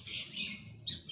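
Kacer (magpie robin) chirping, a few short bright whistled notes in quick succession, faint and somewhat distant over low background noise.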